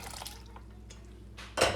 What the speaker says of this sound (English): Pour it into there.